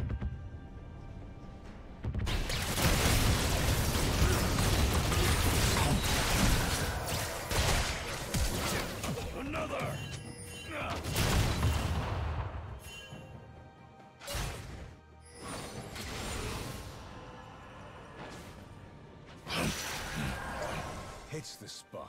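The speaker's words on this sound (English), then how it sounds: "Cannons!" Heavy cannon barrage booms and crashing impacts pound in a dense barrage in League of Legends, rumbling and overlapping, with voices talking over the chaos.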